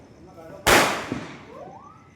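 A single sharp firecracker bang goes off at close range, followed by a fainter pop and a short whistling trail fading out on a village street.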